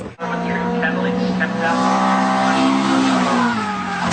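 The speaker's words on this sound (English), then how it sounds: "He's spun it completely and he's come to an abrupt halt." A race car spins and skids to an abrupt halt during a rally-style race, with engine noise and tire squeal under excited commentary.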